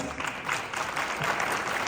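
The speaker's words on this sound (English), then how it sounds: "Give yourself a huge round of applause." Brief, fairly soft applause from a town hall audience in a high school, a steady patter of clapping lasting under two seconds.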